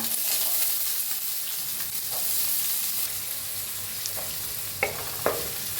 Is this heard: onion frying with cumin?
yes